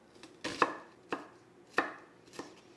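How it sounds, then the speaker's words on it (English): Knife slicing a quarter of an onion thinly on a board, four crisp chopping strokes spaced about half a second apart, close and clear with no talk. "Cut it as thin as possible."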